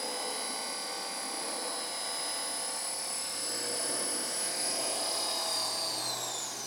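A Belt CP V2 radio-controlled helicopter hovers steadily nearby, its high whining motor and rotor buzz held at a constant loud level throughout with only slight pitch drift.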